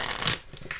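A deck of tarot cards being shuffled, brief soft papery riffling bursts, close and quiet, with no talk.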